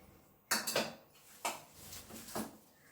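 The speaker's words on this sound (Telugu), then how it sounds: "శనగిత్నాలు వెల్లుల్లిపాయ కొంచెం అట్లా దంచుకోండి" Peanuts and garlic are being pounded. A handful of sharp, close knocking thuds come in an uneven rhythm, with quiet pauses between the strikes.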